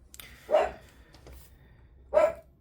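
An old 14-year-old dog barks twice, two separate loud close barks about a second and a half apart with quiet between.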